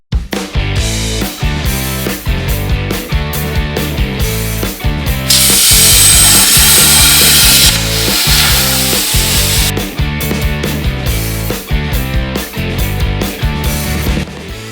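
An ArcDroid CNC cutter cutting out a steel bracket gives a loud, sustained mechanical drone with rhythmic stepping pulses, then a hissing blast in the middle before the pulsing motor sound resumes, with no talking.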